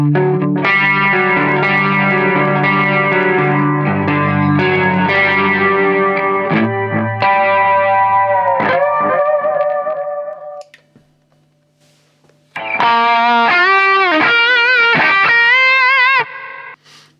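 Electric guitar through a Zoom G2 Four chorus effect, shimmering and wavering, sustained chords and notes that pause briefly, then return with a pronounced swirling modulation.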